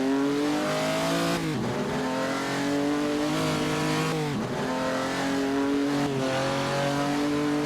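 A Ferrari 340 racing engine in Assetto Corsa drones loudly and steadily, with a few quick dips and rises as gears shift or the throttle lifts, heard alone without talk.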